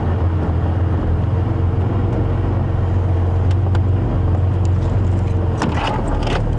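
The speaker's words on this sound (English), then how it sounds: "I'm just going to stand by here in this mitre drain while this car comes past." A car on a dirt safari game-drive road rumbles past at sunset, a steady low engine drone that stays loud and close throughout with faint rustling on top.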